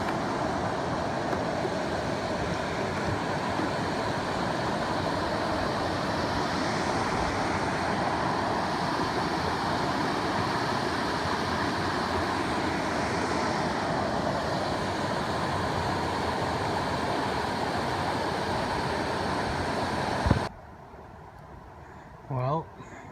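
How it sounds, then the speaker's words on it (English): A distant waterfall in Algonquin Provincial Park sends up a steady, broad rushing roar that holds unchanged for about twenty seconds before cutting off abruptly, followed by quieter near sounds. "I hear a waterfall just over the bend"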